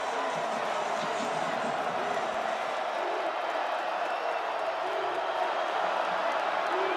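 Steady, dense roar from a football crowd at Paulson Stadium on a third down, cheering and noise holding at an even level throughout.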